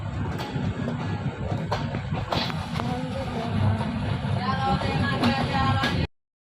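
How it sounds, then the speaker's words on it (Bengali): A commuter train rolling from Joydebpur to Kamalapur in Dhaka rumbles steadily from inside the carriage, with low continuous rolling noise and occasional knocks and rattles, swelling slightly louder toward the end. "তো যাই হোক আমরা ট্রেনে উঠে পড়েছি"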